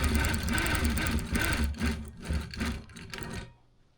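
A Gammill longarm quilting machine stitching a Harley T-shirt quilt, a steady close mechanical chatter of rapid needle strokes that pulses with movement, then cuts off near the end, leaving quiet.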